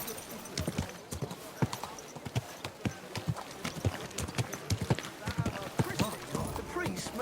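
Horse hooves clip-clop at a steady trot in the medieval game Kingdom Come: Deliverance 2, with close, rhythmic thuds throughout and a character's voice speaking over them.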